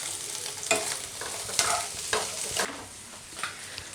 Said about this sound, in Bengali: এর মধ্যে দিয়ে দিচ্ছি ভেজে রাখা ডিম।